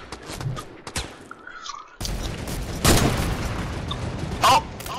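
A sniper rifle shot from a video game sounds as one hard, booming crack after a faint stretch, followed by a dense, noisy rumble and a second loud burst near the end.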